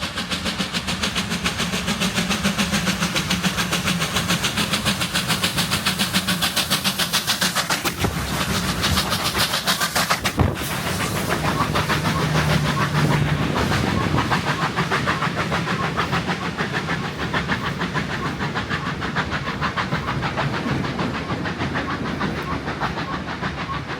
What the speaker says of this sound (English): On the return trip, we see the R-Class engines climb Chewton Bank near Castlemaine as they head back to Melbourne.